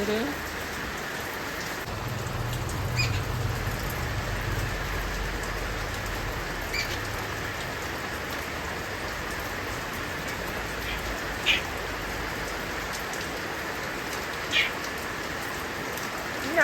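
Steady rain falls throughout, a continuous even patter with a couple of sharper drips standing out near the end; no voices.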